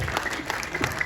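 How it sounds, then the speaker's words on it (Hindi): Brief applause from the audience at a film trailer launch event, a short burst of scattered clapping at moderate, somewhat distant volume. "इनके लिए तालियां हो जाए"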